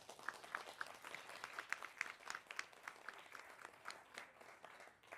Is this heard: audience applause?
yes